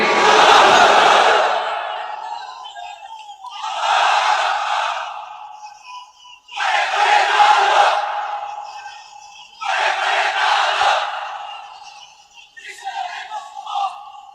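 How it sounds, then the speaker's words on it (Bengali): A large sermon crowd roars the takbir chant, Allahu Akbar, in loud unified bursts that rise and fall in a steady repeating rhythm, filling the space with massed voices. "তাকবীর পড়েন তো দেখি, যারা চলবে বলতেছেন লিল্লাহি তাকবীর।"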